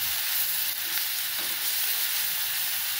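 A paste of crushed garlic, green chili and cumin sizzles steadily in hot oil with asafoetida while being sautéed in a pan, a continuous close frying hiss with no talk.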